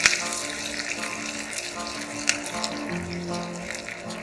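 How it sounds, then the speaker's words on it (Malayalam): Thinly sliced shallots frying in coconut oil in a pan until golden brown for a Kerala tomato curry, giving a steady close sizzle with scattered crackles and a few louder pops. "ഈ ഉള്ളി ഒന്ന് ഗോൾഡൻ ബ്രൗൺ ആവുന്ന വരെ നമുക്ക് വറുത്തെടുക്കാം"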